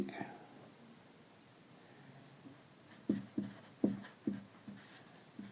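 Pen strokes scratching on paper during a Class 10 maths lesson on linear equations: after a quiet stretch, a run of short, close, rhythmic scribbles with brief pauses between them.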